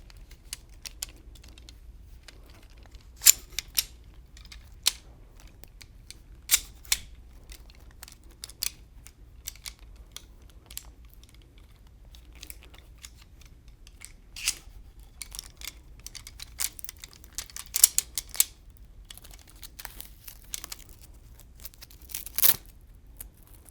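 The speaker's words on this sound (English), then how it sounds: "pull the tubes out and start to fold them in on themselves" A Creative Mark Shelby display easel is folded up as its tubes are pulled out and collapsed, producing scattered sharp plastic clicks and clacks at irregular intervals against an otherwise quiet background.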